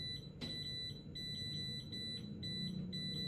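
A high electronic alarm on a DCA AFF02-12L laser level beeps repeatedly in quick, even pulses, fairly faint over a low background hum.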